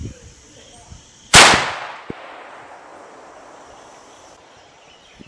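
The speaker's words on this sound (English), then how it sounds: "at 12 gauge, you know that hits your shoulder there" A 12-gauge shotgun fires a slug during a sight-in session, a single loud close blast followed by a long decaying echo, then a sharp click and quiet outdoor background.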